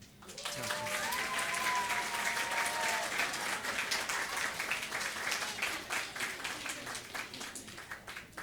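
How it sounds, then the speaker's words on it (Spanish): A church congregation at a New Year's service claps in steady, fairly faint applause that rises quickly and holds for several seconds, with a voice briefly audible at the start. "recibimos con un fuerte aplauso"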